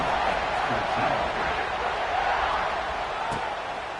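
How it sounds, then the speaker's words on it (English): A football stadium crowd at a kickoff sends up a broad, sustained roar of cheering that holds steady throughout and fades slightly near the end. "this crowd now ready to get behind them"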